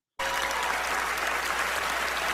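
Huge applause from a large audience at an awards ceremony starts suddenly and then holds steady and dense as a continuous wash of clapping.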